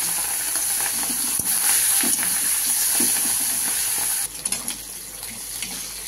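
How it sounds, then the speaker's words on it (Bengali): Shrimp frying in hot oil in a wok, a steady close sizzling hiss with bubbling, cut briefly near the end as the sizzle drops and fades. "হয়ে গেছে তেল গরম, দিয়ে দিলাম চিংড়ি মাছ।"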